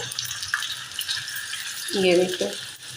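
Seekh kebabs sizzle and fry in a pan, a steady crackling hiss with a brief louder bubbling burst near the end as they are turned, with a voice speaking over it.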